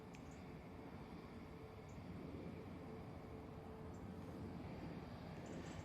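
Faint, distant broadband roar of a Virgin Atlantic Airbus A330 airliner arriving at Manchester Airport, a steady wash of engine noise with no talk.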